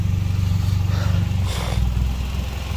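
Swapped Nissan QR25DE four-cylinder engine idling steadily up close while its coolant is burped, a continuous low rumble with a slight rough pulse and no voices.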